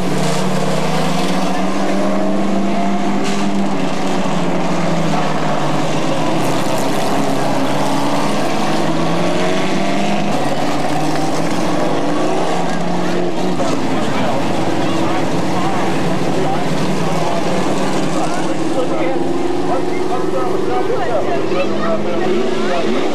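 Sportsman stock cars racing at C.C. Speedway in 1995 fill the air with a loud, continuous engine roar that rises and falls in pitch as the cars circle, with voices faintly beneath.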